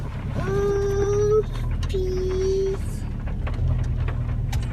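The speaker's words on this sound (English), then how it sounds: "It's a rainy day here." Rain patters steadily on a car being driven in King's Lynn, UK, under a constant drone, with two brief electronic tones standing out.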